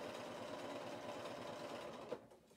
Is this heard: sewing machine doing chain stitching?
yes